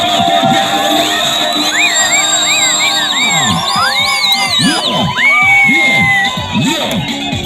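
A church congregation cheers loudly and continuously, with high whoops, ululating cries and shouted voices layered over dense crowd noise, close and sustained throughout.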